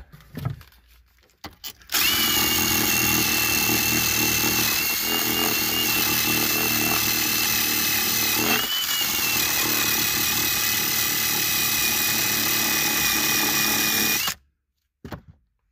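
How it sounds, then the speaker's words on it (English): A power sander whirs loudly and steadily for about twelve seconds, close by, then cuts off abruptly during a car amplifier install in a 2008 BMW 650i. No talking. "and yeah, I go sanding it right now"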